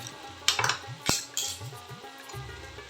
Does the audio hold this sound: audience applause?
no